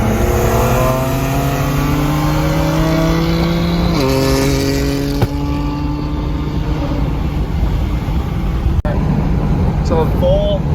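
A BMW tuned to 23 PSI of boost pulls hard at full throttle during street races at a car show, the engine climbing through a gear change and revving loudly and close, with people talking over it.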